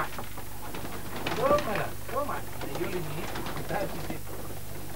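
Racing pigeons arrive at their loft and coo in several soft, throaty bursts over a steady background hum, with a person talking quietly nearby.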